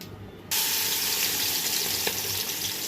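Onion frying in oil for pulao: after a brief quieter start, a loud dense sizzle bursts in and holds steady close up, with a faint click of stirring partway through and no talk.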